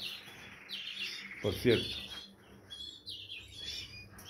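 Several young birds chirp in high, thin bursts around an aviary with chicks just being weaned, the calls moderately close and intermittent, with someone speaking briefly over them.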